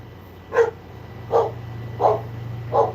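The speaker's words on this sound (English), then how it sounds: "You can hear the dog." A dog barks outside, wanting to come in: four separate, evenly spaced barks at moderate distance over a steady low hum.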